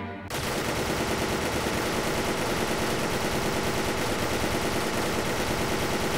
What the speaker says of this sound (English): Let me show you the power of the RPK real quick